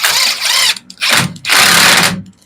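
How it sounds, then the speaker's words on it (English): Power drill driving a screw into an osage orange log, three loud whirring bursts, close up, with short pauses between them and no talking. "I got my drill and my screw"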